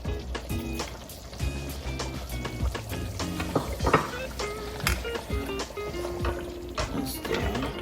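Stew with meat, carrot and rosemary is stirred in a pot over medium heat, giving irregular wet sloshing and soft clinks in uneven strokes, fairly close and moderate in level.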